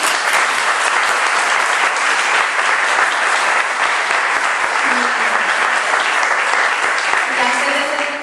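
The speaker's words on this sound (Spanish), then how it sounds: "Pues me queda solo invitarles a aplaudir a Melanie conmigo." Dense audience applause at a book presentation for the novel Vein Breaker: Dominadores de Almas II, a loud, steady clapping roar from a crowd that holds for about eight seconds without pause.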